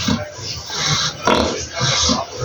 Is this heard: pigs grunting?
yes